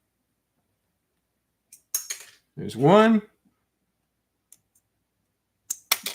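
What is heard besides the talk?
scissors prying stuck LEGO tiles off a brick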